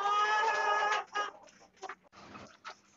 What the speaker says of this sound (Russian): курочка, которая меня перебивает, сядет наконец-то в гнездышко.